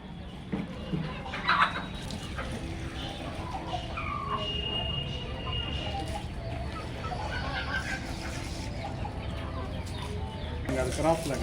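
Native country chickens at a hatchery and nursery unit, clucking steadily and close in a busy farmyard bed of sound, with a few sharper calls standing out.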